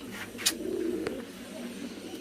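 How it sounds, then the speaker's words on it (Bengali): A king pigeon coos softly at close range, a low murmuring call running through the short stretch against a light background hiss. "আমাদের কিং কবুতর এই যে দেখেন বাচ্চা একটা পাই"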